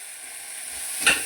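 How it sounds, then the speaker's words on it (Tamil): Capsicum sizzles softly in a hot pan with a steady hiss, then a brief louder burst of frying near the end. "சேர்த்துக்கிட்டு இதையுமே நல்லா வதக்கி விட்டுக்கோங்க"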